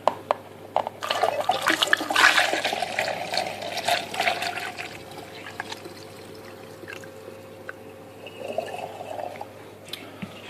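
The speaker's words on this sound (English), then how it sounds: "pour the contents of this into the demijohn" Homebrew fruit punch concentrate poured from a container into a glass demijohn partly filled with cold water, a gurgling, splashing pour that builds then settles into quieter trickling.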